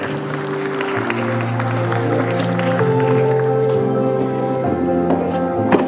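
An audience of parents applauds at a school prize distribution ceremony, with dense continuous clapping held at a steady level over background music and hum, plus a few sharper claps standing out near the end.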